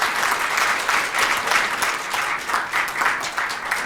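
Audience at a Korean policy forum on energy policy claps together in welcome, a dense, steady round of applause filling the room for several seconds with no voices over it.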